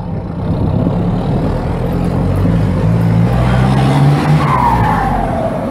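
A Ford F-4000 truck with a four-cylinder Cummins engine runs hard, giving a loud, close, continuous engine roar with rising and falling pitch.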